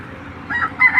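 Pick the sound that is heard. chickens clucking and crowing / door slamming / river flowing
chickens clucking and crowing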